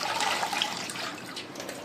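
Water pours steadily from a running tap over leaves being washed, a continuous close splashing rush with no voices.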